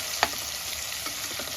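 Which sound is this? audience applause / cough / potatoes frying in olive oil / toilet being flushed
potatoes frying in olive oil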